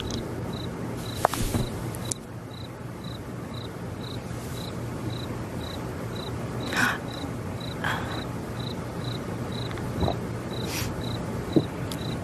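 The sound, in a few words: crickets chirping sound effect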